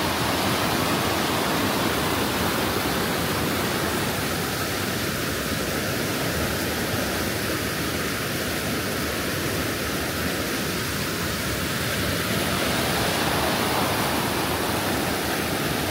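Loud, steady roar of rushing river water beside waterfalls in a Portuguese valley, a constant broadband wash with no talk over it.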